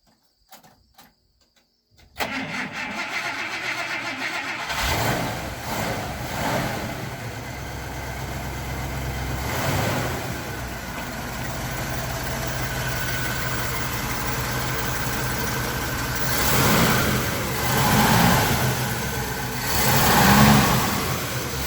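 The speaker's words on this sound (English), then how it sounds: "we're just going to start it up, and you can see it running and hear it running" A 1954 Buick Century's rebuilt Nailhead V8 cranks and catches after a short silence, then idles with a deep rumble, swelling with a few revs.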